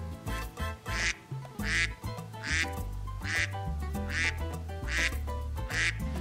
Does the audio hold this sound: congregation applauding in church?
no